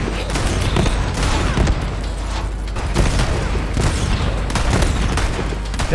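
Sustained, rapid gunfire from a weak gun in Borderlands 3, with dense, loud bursts of shots and booms throughout, and a few heavier thumps standing out.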